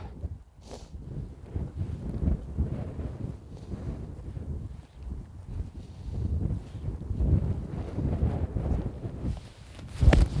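Gusty wind buffets the microphone on a golf course, a steady low roar with rising and falling surges, loudest near the end, with no talking.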